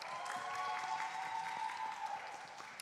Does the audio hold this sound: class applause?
yes